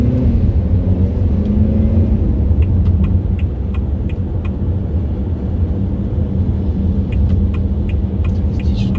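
A 2022 Haval F7 SUV accelerating on a city road, heard from inside as a steady low rumble and road roar with faint ticking clicks, no speech.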